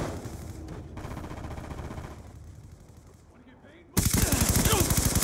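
Gunfire from a hostile war machine in Call of Duty Black Ops 2 during a Domination match on the Hijacked map. Faint battle noise and voice gives way to a sudden loud, rapid burst of shots.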